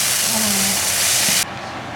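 Meat for a Xian hamburger sizzling in a hot pan with special sauce, giving a loud, steady hiss close up that cuts off abruptly near the end.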